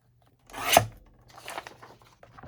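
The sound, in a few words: trimming junk mail envelope paper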